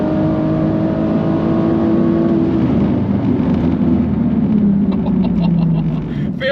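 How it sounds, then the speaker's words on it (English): A BMW M2 being driven hard on a race track at Swift revs loudly, the engine pitch rising and then dropping as the car brakes and changes down from high speed, close and dominant throughout. "It's 150 miles an hour on the brakes, down into fourth, off the brakes, tip it in nice and fast."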